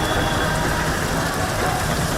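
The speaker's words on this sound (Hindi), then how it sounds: "उसको कहते हैं बारिश।" Steady, dense rain falls outdoors, a constant hiss with no breaks.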